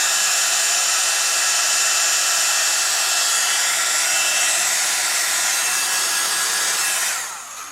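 Steady loud whooshing roar of a heat tool warming an embossed card craft, constant airflow hiss held close for several seconds before it cuts off near the end.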